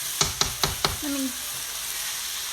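Okra fries in a skillet with tomatoes, a steady hiss of sizzling under four sharp knocks as a utensil stirs and scrapes the pan, followed by a short faint murmur.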